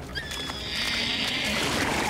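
A horse lets out a high, drawn-out whinny that wavers and fades, over a steady rushing background.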